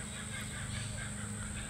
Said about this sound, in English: Can you hear the kookaburra right now? Or the kookaburras right now?